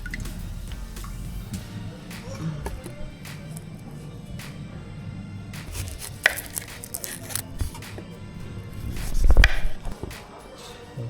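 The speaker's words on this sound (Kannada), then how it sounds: "ಈರುಳ್ಳಿ ಹೆಚ್ಕೊಂಡಿದ್ದಾಯಿತು." Onions being chopped for a simple vegetable biryani, a steady run of soft knife taps on a board at moderate level, with a louder burst of handling noise near the end and no talk.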